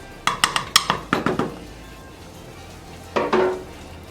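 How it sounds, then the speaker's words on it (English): Fish broth with carrots and other ingredients being stirred in a pot, a quick run of seven or eight sharp spoon clinks and scrapes, a pause, then a couple more knocks against the pot over a faint simmer. "Let me just give it a little stir"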